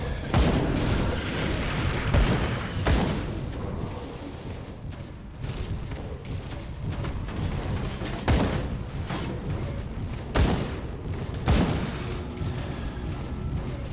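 Repeated heavy mortar blasts in the Grim Dawn action RPG, deep booming impacts landing every second or two over a dense rumble of combat noise, loud and close.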